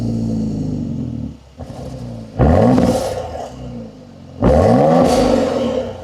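Base V6 SUV fitted with an aftermarket exhaust pipe, idling with a deep burble, then revved hard three times in rising roars that fall back to a throaty idle, close and loud.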